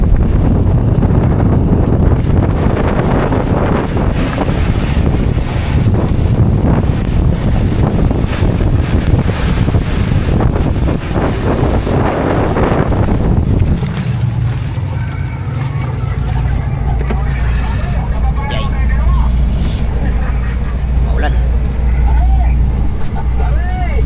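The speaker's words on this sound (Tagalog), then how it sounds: "Malakas ang hangin sa labas, maalon." Strong wind buffets a boat on rough seas off Dilasag, Aurora, during a low-pressure system, with loud continuous wind roar and broadband noise that eases into low rumbling and splashing after midway; no speech.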